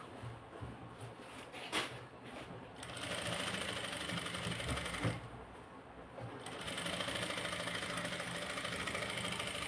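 An electric sewing machine stitches a blouse sleeve in close, steady bursts of rapid mechanical whirring, briefly pausing twice between runs.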